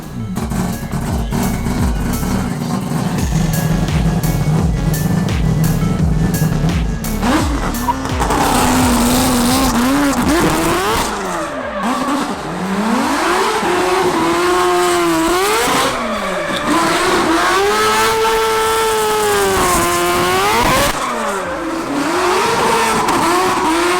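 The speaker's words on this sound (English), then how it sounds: "all of the tip-in, which is like the blips of the throttle, and also partial throttle stuff" A four-rotor race car engine idles roughly, then rasps through loud revs and sharp throttle blips, pitch sweeping up and down repeatedly, close and continuous with no talking.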